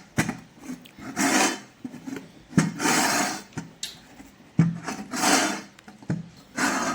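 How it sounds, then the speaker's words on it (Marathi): A rolling pin rolls out wheat-rice papad dough on a metal plate that turns on a smooth floor, making repeated rubbing, scraping strokes with soft knocks in a back-and-forth rhythm, close and alone. "अशा पद्धतीने एकदम छान हा हलक्या हाताने पापड लाटून घ्यायचा"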